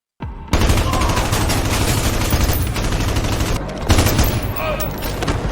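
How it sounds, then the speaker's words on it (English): Rifle fire in a movie action scene: dense, loud bursts of shots crackle continuously after an abrupt start, layered with a surge of battle noise partway through. "She breaks free, grabs a rifle, and eliminates the attackers."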